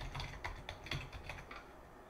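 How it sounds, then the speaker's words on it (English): Steady typing on a computer keyboard, a quick run of light key clicks over about two seconds, fairly close and with no voice. "I'll type that in real quick"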